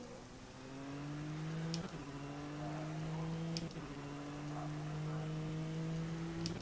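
Rain drums steadily around an LMP2 prototype race car in rFactor 2, a wet hiss layered over the car's droning engine note, which briefly dips and climbs again at each gear change.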